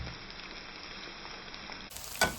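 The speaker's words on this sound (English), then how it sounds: "Just fry this for a couple of minutes, just slightly brown. We'll add the chopped onions in." Onions and spices fry in a pan with a soft, even sizzle, ending in a short louder scrape of a stirring spoon.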